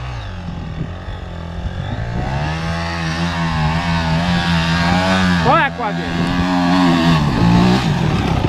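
An enduro motorcycle revs and rides through sand close by, its engine loud and continuous with rising and falling pitch as the throttle changes, while someone briefly speaks over it.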